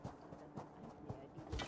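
Faint, rhythmic clip-clop of horse hooves in The Elder Scrolls Online, a few evenly spaced thuds over a low background with a voice speaking quietly.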